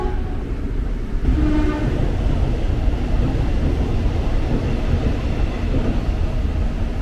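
A KRL commuter train rumbles steadily at Bekasi station platform, a loud continuous low roar of wheels and motors close by, with a brief faint tone near the start.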